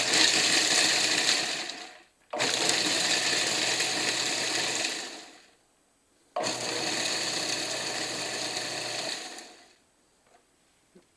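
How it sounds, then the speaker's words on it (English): Nuts are pulsed in a food processor in three long bursts, each a loud whirring grind lasting a few seconds and separated by short silent pauses. No one speaks. "pulse the nuts until they're ground finely"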